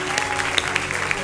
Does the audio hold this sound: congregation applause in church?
yes